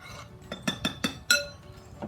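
Salt and sugar being mixed in a bowl for a cherry pie dough, heard as several light clinks and taps of a utensil against the bowl, spaced irregularly and fairly close, with one sharper clink near the end.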